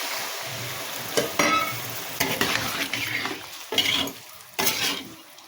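Egg and papaya curry in a pan as water goes in: a low sizzle runs under repeated scraping stirs, with several sharp bursts of hissing spaced a second or so apart and no talking.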